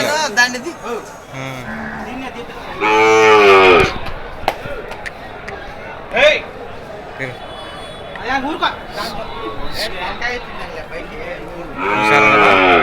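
Cows and calves moo loudly several times at a cattle market in Krosuru, with long calls near the start and end and shorter ones between, while voices chatter and thumps sound nearby.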